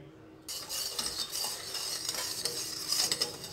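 Sugar being stirred into lukewarm liquid to dissolve it for homemade whole wheat bread dough: soft, steady scraping and swishing in a bowl, quiet and close, with a few brighter clinks.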